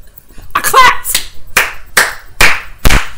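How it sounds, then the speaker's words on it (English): Hands clap in a sharp, loud burst of about six claps at an uneven, quickening pace, close up and with no voices over them. "I clapped."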